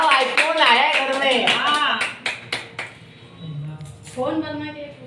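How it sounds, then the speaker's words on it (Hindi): A small family at home claps their hands in a quick run of sharp, close, rhythmic claps, with voices talking over them before the clapping thins out into scattered taps and more speech. "तो बजा दो ताली बजाओ, आईफोन आया घर में"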